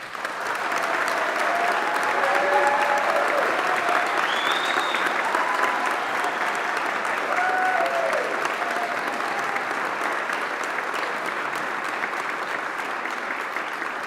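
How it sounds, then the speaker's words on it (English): A large audience at a university graduation ceremony gives the graduates a long, sustained round of applause, dense and even clapping filling a big hall with a few faint voices underneath. "can we all start by giving a huge round of applause to all of our graduates"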